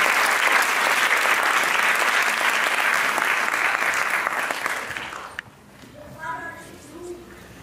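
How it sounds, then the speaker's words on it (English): An audience at a Bharatanatyam dance recital applauds loudly and steadily for about five seconds, then the clapping drops away and a voice begins speaking. "Ladies and gentlemen, another round of applause."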